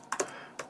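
A brew install command typed on a computer keyboard, heard as a few quick close key clicks in under a second.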